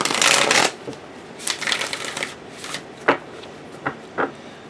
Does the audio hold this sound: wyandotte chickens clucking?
no